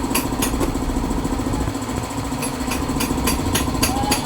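Suzuki Skydrive Sport motorcycle, fitted with off-road tires, idling steadily nearby with a buzzy, even engine drone and small periodic clicks, no voices over it.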